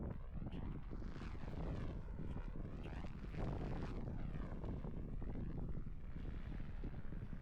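A small model airplane engine drones steadily in flight, loud and close, its pitch rising and falling as it passes with whooshing wind buffeting underneath.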